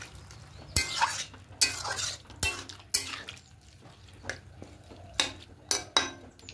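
A spoon stirs Malabar spinach with chickpeas in a pan, scraping and clinking against the metal in irregular bursts over a soft background sizzle, with no talking.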